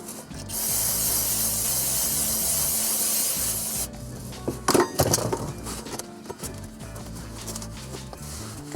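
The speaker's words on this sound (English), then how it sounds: "Some brake cleaner." Brake cleaner hisses from an aerosol can in one loud, steady spray of about four seconds. Scuffing and rubbing sounds follow, like a shop rag wiping the part.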